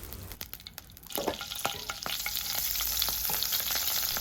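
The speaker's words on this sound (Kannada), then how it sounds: "ಬೇರೊಂದು ಪಾತ್ರೆಗೆ ಸ್ವಲ್ಪ ಎಣ್ಣೆ ಹಾಗೆ ಬೆಣ್ಣೆನ ಹಾಕ್ತಾ ಇದ್ದೇನೆ" Oil and butter sizzle in a pan for paneer butter masala, starting with sparse crackles and spatters that build into a steady, close hiss, with no voices.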